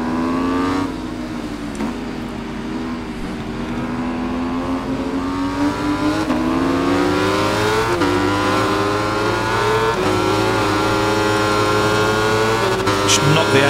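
A 1000cc racing motorcycle in the Ride 5 game revs hard and continuously through repeated gear changes, the engine note climbing and dropping for about fourteen seconds, loud and close, with someone talking over it.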